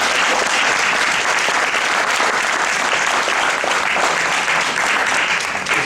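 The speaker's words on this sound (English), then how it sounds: "A round of applause for Curtis Ward." A large indoor crowd at a Caribbean American heritage tribute event breaks into steady, loud applause for an honoree, sustained and dense throughout with no speech over it.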